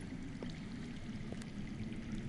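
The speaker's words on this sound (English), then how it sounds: "I hear water. from underground?" Underground water flowing in a video game, heard as a steady, soft rushing stream with no clear splashes, continuous and moderately faint throughout, with no speech.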